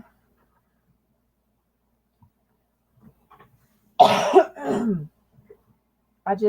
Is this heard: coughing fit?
yes